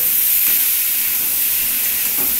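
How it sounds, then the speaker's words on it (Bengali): Pointed gourd curry fries in a pan while being stirred, giving a steady close sizzle and hiss with faint scraping of the spoon throughout. "এটা ভাজা ভাজা কষা হোক"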